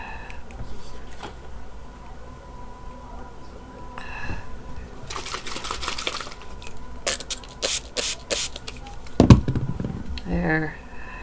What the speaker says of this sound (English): I gotta just spray some more water in it.